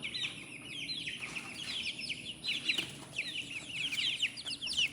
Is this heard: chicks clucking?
yes